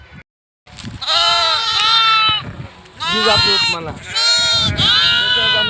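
Sheep and lambs bleat loudly and close by in a shepherd's flock, several overlapping wavering calls following one another in quick succession, with a voice briefly heard among them.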